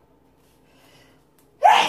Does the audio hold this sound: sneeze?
yes